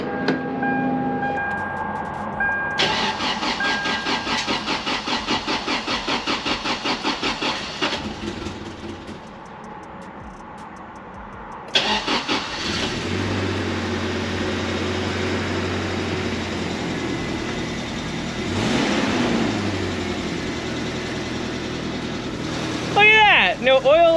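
A cheap used Toyota 4Runner with a fresh battery cranks over and its engine starts, settling into a steady running drone with changing tone, loud and close, with a few knocks and rattles near the end.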